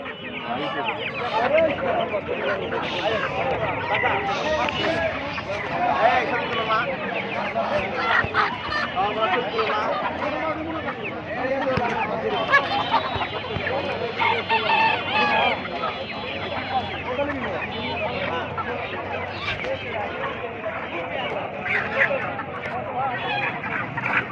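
Sonali chickens cluck and squawk among a noisy market crowd, the birds scattered through a dense, continuous bed of chatter and voices with people talking throughout.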